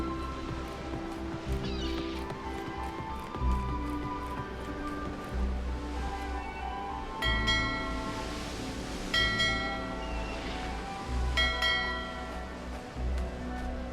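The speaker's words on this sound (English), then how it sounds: "The Major normally tells us off for ringing the bell." A bell rings repeatedly in the 11-11 Memories Retold video game, with regular strikes over a bed of ambient game music and background noise, fairly prominent throughout.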